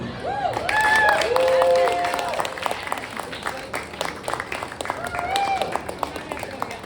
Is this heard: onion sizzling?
no